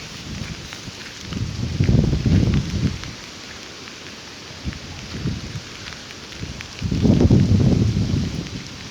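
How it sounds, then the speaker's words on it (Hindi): Heavy monsoon rain pours down in Goa, rising in two loud swells of rushing, hissing noise with a quieter steady patter between them. "बारिश तेज़ हो रही है, अब चलना चाहिए"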